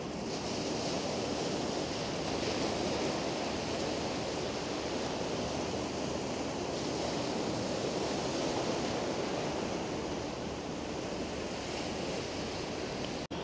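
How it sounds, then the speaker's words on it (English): Waves crash continuously on the beach at Blackpool, a steady, full roar of surf that swells and eases slightly with no voices, heard close and alone. "just listening to the waves crashing"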